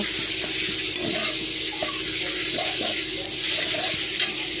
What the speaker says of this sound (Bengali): এখন মশলা কষিয়ে তারপর আলুগুলো সব একসাথে দিয়ে দেওয়া হলো